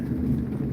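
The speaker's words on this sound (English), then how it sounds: "It is still raining." Steady rain falling during a monsoon storm, a dense continuous low wash that holds at an even level for the whole short stretch, with no voices.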